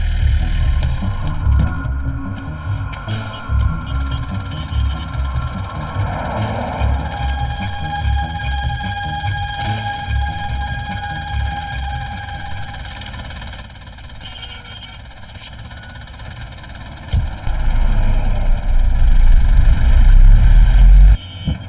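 A bus engine runs steadily with a low rumbling idle and a faint tonal hum, swelling louder near the end as the motor revs up.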